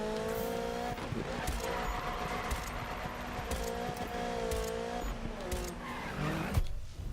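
A Volkswagen Golf racing in Need for Speed, engine whine climbing and dropping through shifts, with clicking taps and skids scattered over the continuous motor sound.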